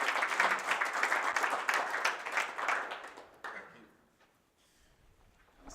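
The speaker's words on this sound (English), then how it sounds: "Give them a round of applause." An audience at a talk about Rootstock (RSK) claps in a dense burst of applause for roughly three seconds, then it quickly tapers off into near quiet.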